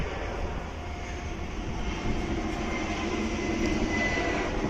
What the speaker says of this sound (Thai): กับมีเครื่องบินมาพอดีเลยนะครับ